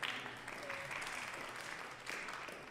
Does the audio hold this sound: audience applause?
yes